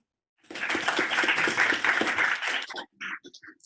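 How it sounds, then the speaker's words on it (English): Applause from an audience at a health equity symposium panel, a short burst of many hands clapping that starts abruptly, stays full and steady for about two seconds, then breaks into a few scattered final claps. "one more round of applause for the panel"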